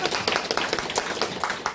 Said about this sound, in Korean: 이거 박수 한번 쳐줘, 이렇게.